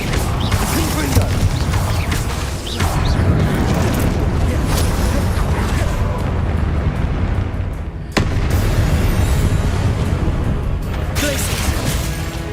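The Confringo blasting spell explodes in a Harry Potter video game, a heavy, rumbling burst with crackling debris that fills the whole stretch, with a sharp new blast partway through.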